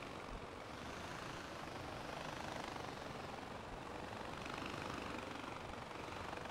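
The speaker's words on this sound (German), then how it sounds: "Da ist nämlich schon ein Heli." Steady whirring helicopter rotor and engine noise in the video game Far Cry 4, constant and fairly loud, filling the whole stretch with no talking.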